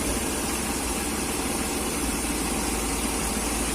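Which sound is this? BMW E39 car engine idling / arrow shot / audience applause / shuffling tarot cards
BMW E39 car engine idling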